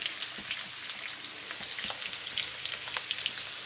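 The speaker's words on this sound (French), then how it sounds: "Donc, wok, huile. N'hésitez pas. Et on va faire revenir les oignons." Onions sizzle in hot oil in a wok for shrimp and black mushroom stir-fried noodles, a steady close crackle and spatter throughout with no talking.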